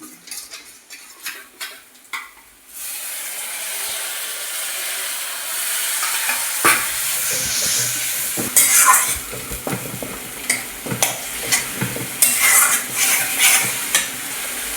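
Hot water splashes into a cooking pot of yellow chillies for a cashew mutton curry, setting off a steady sizzle, followed by irregular clinks and scrapes of stirring close by.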